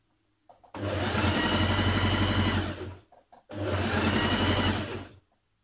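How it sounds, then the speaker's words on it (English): A sewing machine stitching the side seams of a dress runs in two steady, even bursts of about two seconds each, close and loud, with a short pause between them. "stitch the back to the front at the sides, here and here. So match your notches and then stitch that in place."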